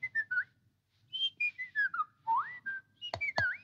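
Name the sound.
baby whistling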